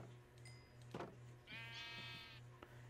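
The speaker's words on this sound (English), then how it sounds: "Now we've got some sheep bred up." Sheep bleat in the Minecraft video game, one short bleat followed by a longer wavering call, close and clear over a quiet background hum.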